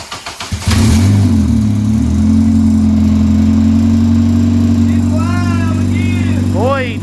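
A race car engine cranks a few times, then catches and settles into a loud, steady rumbling idle close by, with voices speaking over it near the end.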